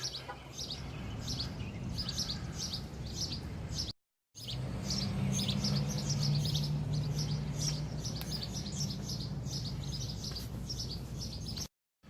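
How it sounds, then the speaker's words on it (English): Many birds chirp repeatedly in quick, bright bursts over a low ambient hum in a town with many boarded-up buildings, continuing steadily with a brief gap of silence. "Doesn't stop the birds from chirping."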